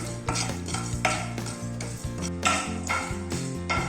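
Dry cardamom pods rattle and scrape in a hot pan over low flame as they are stirred repeatedly, with light clinks of a utensil against metal, close and steady.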